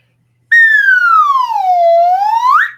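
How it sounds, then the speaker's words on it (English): One loud, pure human whistle held for about two seconds, its pitch sliding down and then sweeping back up as the tongue is drawn back and forth like a slide whistle, alone in silence. "by drawing your tongue back and forth, kind of like on a slide whistle, you can change the tone."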